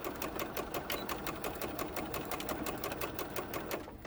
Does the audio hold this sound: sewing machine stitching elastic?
yes